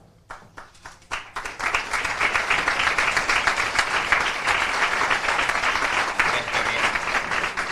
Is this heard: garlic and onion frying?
no